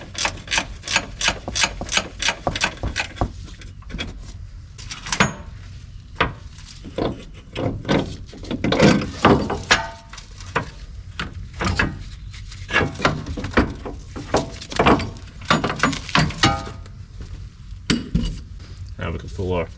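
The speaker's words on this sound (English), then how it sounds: "So the top bolts are 18s on the strut up here. So we're gonna start getting these" Wrench work loosening the 18 mm top strut bolts on a Chevrolet Tahoe Z55 with Autoride suspension, heard as a run of sharp metallic ratchet clicks and clinks. Intermittent tool taps and knocks follow, close by.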